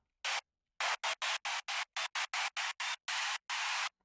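Short bursts of harsh, saturated synthesized white noise made in FL Studio, about a dozen in an uneven rhythm, each cutting cleanly on and off with silence between.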